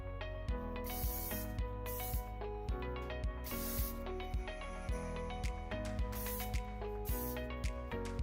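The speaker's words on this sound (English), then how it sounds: "just give a little spray." Short hissing hairspray bursts, several spaced out across the stretch, heard over loud rhythmic background music.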